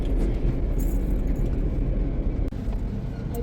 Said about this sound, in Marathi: इथे ट्रॅफिक आहे थोडंसं,